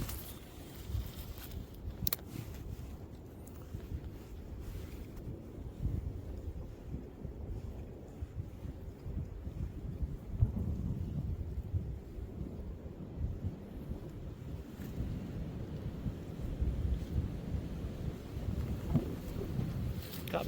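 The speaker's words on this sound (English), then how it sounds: "Can't believe this wind." Strong wind buffets the microphone on a winter lake during pike fishing, low rumbling gusts that rise and fall throughout, with faint speech in places.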